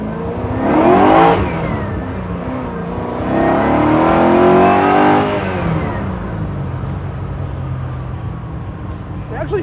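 A 1964 Chevy Biscayne with a 632 big block V8 drives by, its engine rising in two loud revving surges before settling to a rumbling idle-like drone, with a faint voice underneath.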